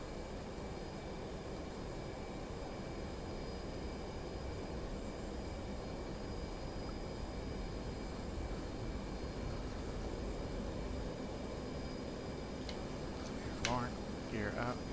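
EF-18 jet taking off in the DCS flight simulator, a steady loud broadband engine roar throughout, with a voice briefly speaking near the end.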